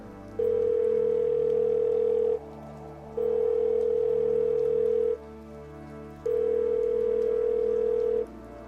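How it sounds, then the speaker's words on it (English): A mobile phone call ringing through unanswered toward voicemail, three long steady ring tones separated by short pauses, clear and close, heard alone over faint background hiss. "it rang the whole way through before going to voicemail"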